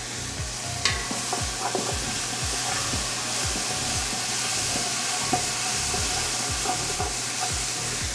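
Vegetables fry in olive oil in a pan over a low to medium gas flame, giving a steady close sizzle broken by repeated stirring scrapes and faint clinks.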